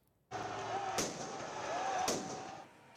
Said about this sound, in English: Fireworks were set off and piles of trash burnt on the streets of Paris.